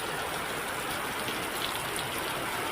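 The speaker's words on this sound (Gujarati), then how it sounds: "મુન્દ્રાના ગ્રામ્ય વિસ્તારોમાં ધોધમાર વરસાદ વરસી રહ્યો છે" Heavy rain pouring over a rural village area near Mundra in Kutch, a dense, even hiss of falling water with no breaks, steady and moderately loud throughout.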